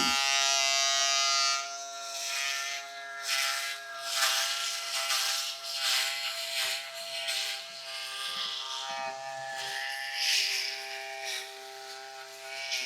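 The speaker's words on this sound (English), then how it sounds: "So here we go, shaving." A HiBig double foil electric razor shaving stubble, a steady close buzz of the motor with shifting scratchy texture as the head moves across the skin, running continuously without talk.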